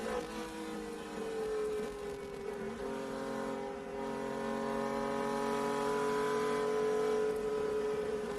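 A late-1960s Ferrari Dino race car climbs a hillclimb course, its engine holding a steady, moderately revved high-pitched whine that slowly builds and swells over several seconds, heard alone without talk.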